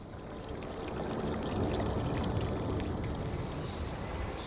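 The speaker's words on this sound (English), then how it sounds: "you can see there the ferocity of how much water is coming out." Water gushes out in a forest in a forceful, continuous rushing and splashing, loud and close, building slightly and holding steady for several seconds with no voices.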